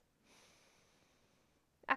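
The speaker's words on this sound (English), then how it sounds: "Inhale through the nose." A faint, steady intake of breath through the nose during a guided deep-breathing exercise, lasting over a second, followed by a brief louder puff at the end.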